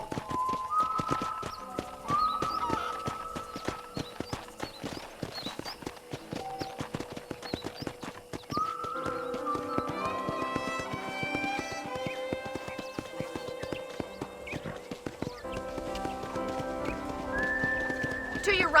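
A horse in the video game Red Dead Redemption trots with steady clip-clop hoofbeats and whinnies now and then, while characters talk over it and soft game music plays underneath.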